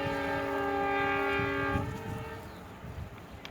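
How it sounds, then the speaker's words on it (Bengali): A train horn blares loudly for nearly two seconds as a train rushes past, followed by the fading rumble and clatter of the cars. "খুব বিদ্যুৎ গতিতে ট্রেনটি উড়ে গেল"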